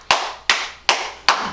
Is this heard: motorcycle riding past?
no